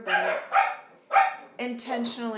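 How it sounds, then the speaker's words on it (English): Dogs bark indoors in a few sharp, close bursts while someone speaks over them. "Excuse the dogs."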